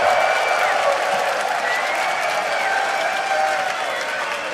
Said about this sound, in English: And I think an applause is in order for Youngbuck indeed.